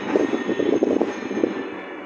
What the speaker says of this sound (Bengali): সামনে রেলগাড়ি দেখতে পাচ্ছেন